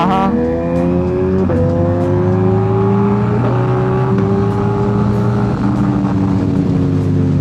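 A Ducati Diavel motorcycle accelerates hard with quick shifting, its loud engine note climbing through several rapid upshifts, each marked by a short break before the revs rise again, close and continuous with no voices.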